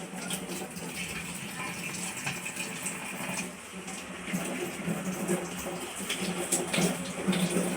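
Tap water runs steadily while taro leaves are rinsed and cleaned, a continuous splashing gush with small shifts as the leaves move under the stream, and no talking.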